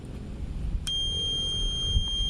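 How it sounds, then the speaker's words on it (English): A small buzzer in a solar-powered electrical project sounds a thin, steady high-pitched tone that starts abruptly and holds faintly over a low background hum. "If we switch on the buzzer,"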